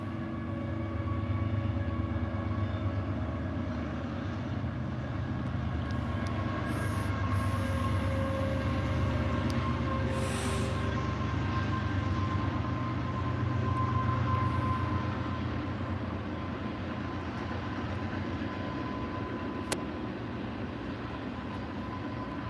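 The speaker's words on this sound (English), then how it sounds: "you better get out of the way because the train is a coming" A train rumbles past steadily for the whole stretch, a continuous loud roar of wheels on rails with faint metallic squeals riding on top.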